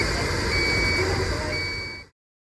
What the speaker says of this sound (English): you want to hear an alarm sound letting you know the machine will alert you when there's an airflow obstruction